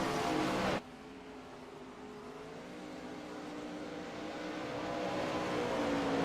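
Race car engines drone steadily in the iRacing sim during a wingless race, a sustained buzzing roar that swells slowly after a brief louder burst at the start.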